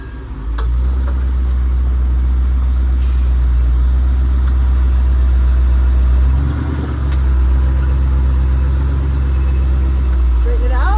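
A vehicle engine runs loud and close as it is driven up over an obstacle, holding a heavy steady drone with a brief surge of gas partway through, and a voice faint in the background.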